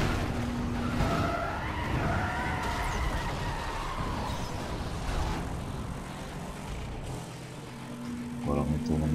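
Police cars chasing in the video game Need for Speed World, with tires skidding and squealing, engines roaring and sirens wailing throughout, loud and continuous with brief intermittent swells.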